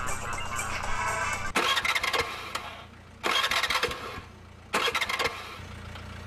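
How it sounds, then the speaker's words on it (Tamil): A vehicle engine is cranked in an action scene: three separate rough, loud starter bursts, each lasting about a second, separated by a steadier background rumble. "வண்டி எடுக்க ட்ரை பண்றா"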